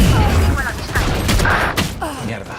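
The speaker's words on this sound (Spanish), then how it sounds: "fallé los dos disparos" Gunfire from the Valorant video game comes as a few sharp shots in quick succession, mixed with game sounds and a player's voice talking over the action.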